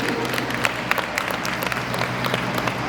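Steady, dense applause from a seminar audience at a Sahaja Yoga temple in Ghaziabad, cheering on a children's performance, with a low hum underneath and no talk.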